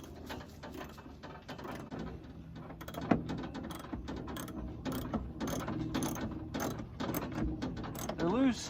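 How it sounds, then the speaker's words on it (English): Old bolts being removed from a Ford Bullnose truck interior with a ratchet, steady clicking ratchet strokes close by with metallic clunks, and intermittent voice in the background. "Starting with the old bolt removal."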